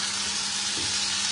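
Oxtail frying in a pan with vinegar, a dense continuous sizzle held at an even loud level, with a faint stir partway through and no voices.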